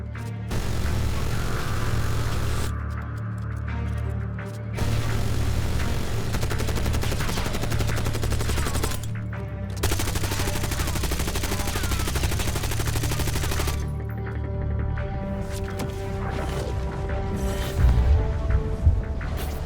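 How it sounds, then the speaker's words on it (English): Sustained video game gunfire, Call of Duty, aimed at a nuke on the Warhead map, fills the whole stretch with dense rattling bursts broken by brief pauses, loud and close, with a heavier boom near the end. "You can actually shoot the nuke on Warhead, and after a little while,"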